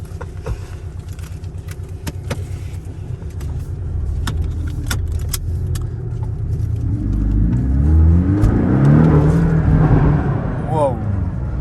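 A supercar in Dubai starts and pulls away, its engine rising from a steady idle to a loud, building acceleration with gear-change sweeps near the end; people talk inside the car throughout.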